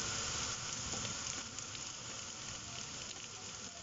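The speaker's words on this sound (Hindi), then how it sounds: "2 मिनट हो चुके हैं गाजर को फ्राई करते हुए।" Carrots and bell pepper frying in a pan give a steady, close sizzle with a soft crackling hiss that holds at an even level throughout.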